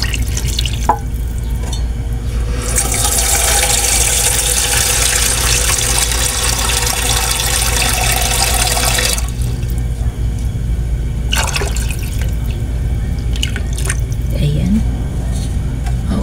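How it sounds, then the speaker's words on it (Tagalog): Broth pours steadily into a pot of pancit bato for about nine seconds, a loud broad liquid rush, followed by quieter drips and light kitchen sounds, with a low background hum throughout. "Lagyan na po natin ang sabaw."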